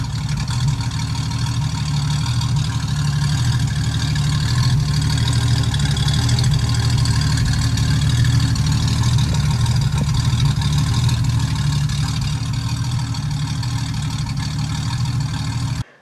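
A Ford 200 inline-six with a 2-barrel Sniper 2300 setup and a new exhaust idles with a steady, slightly lumpy low burble, loud and close, for the whole stretch.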